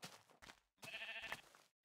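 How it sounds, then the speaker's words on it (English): Sheep in the Minecraft Beta 1.7.3 video game bleating while being sheared, two short bleats followed by a longer wavering one, close and clear with no speech. "Shears. Might as well shear the sheep while I'm here."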